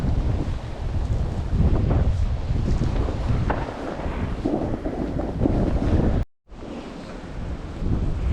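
Strong snowstorm wind in wintry Norway roars and buffets the microphone continuously, a dense broadband rush with gusting swells, briefly cut out near the end before resuming.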